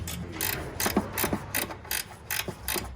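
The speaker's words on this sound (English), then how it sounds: "I'm able to get it right here with the ratcheting wrench" A ratcheting wrench turns a bolt on a Toyota 22RE engine during an engine replacement, giving a rapid series of sharp, close metallic clicks in short bursts, with no talking.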